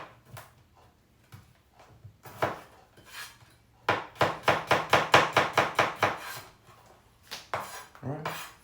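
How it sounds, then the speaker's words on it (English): A knife slices a garlic clove thinly on a cutting board: a few scattered taps, then a steady run of about a dozen crisp, evenly spaced chops close up, followed by a few more cuts, with no talking. "And all we're going to do with the garlic clove, and let's get rid of that, is we're just going to slice it nice and thin."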